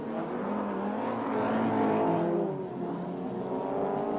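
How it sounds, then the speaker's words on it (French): Vintage racing cars, Lotus, small open barchettas and sport prototypes, lapping the Angoulême ramparts street circuit, with a steady, loud layered engine drone that swells slightly mid-clip as cars pass close by. "Course de Lotus, de barquettes, de sport prototype ou de véhicules entièrement de série"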